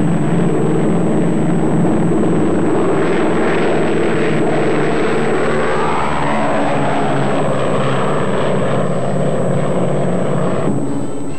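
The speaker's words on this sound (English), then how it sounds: "With the props in reverse pitch, the giant plane could be slowed down during an emergency landing." A 1946 Douglas DC-6 propeller airliner drones loudly and continuously, its piston engines and propellers roaring with a steady thrum and a thin high whine throughout.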